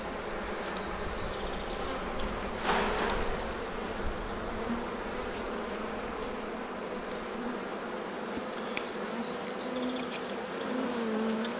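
Honey bees buzz in a dense, continuous drone as they are shaken off hive frames during a hive split into two nucs, loud and steady with a brief swell of flapping and brushing noise early on.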